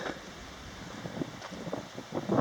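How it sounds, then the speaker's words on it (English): Gusty mountain wind on a hiking trail in Central Oregon buffets the microphone in low rumbling waves, rising in a few stronger bursts toward the end. "Still pretty windy though."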